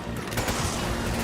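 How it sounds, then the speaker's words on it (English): Sustained machine gun fire from Majini enemies in Resident Evil 5's experimental facility, a dense, continuous burst of rapid shots filling the whole moment, loud and unbroken, with no talking. "there will be 3 Magini with machine guns"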